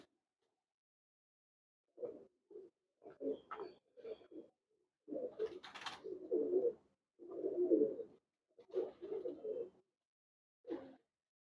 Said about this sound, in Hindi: सखी साहब वाले 75 नंबर सलारे कबूतर हैं और बुलेट सलारे कबूतर हैं जी